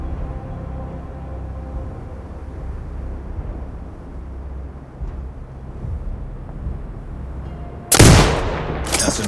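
A single sharp, loud sniper rifle shot rings out in the video game Sniper Ghost Warrior Contracts 2, cracking suddenly near the end after a stretch of low ambient rumble, with a brief echoing tail.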